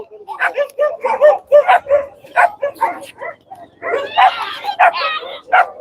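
Several dogs of various breeds bark repeatedly nearby in a rapid, overlapping chorus, with some yips mixed in, at a horse fair in Talwandi Sabo, Punjab.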